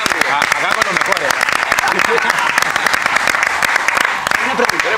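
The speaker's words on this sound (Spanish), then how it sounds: "un aplauso, por favor" Dense, loud applause from a television studio audience on a Peruvian sports talk show, continuous throughout with voices mixed in.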